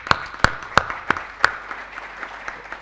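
Several evenly spaced loud claps in a slow rhythm, about five sharp hits, followed by softer, scattered clapping fading out in a room at a medical gathering.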